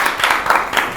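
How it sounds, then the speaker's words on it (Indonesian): A small audience claps in brief bursts, a few quick rounds of hand clapping close by, fairly loud with no talking over it. "hari ini tepuk tangan dulu dong"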